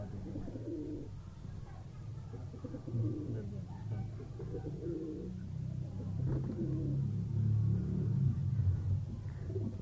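Kept pigeons coo softly at a pigeon-keeping loft in Multan, a low, steady murmur of cooing under a background rumble with faint voices nearby.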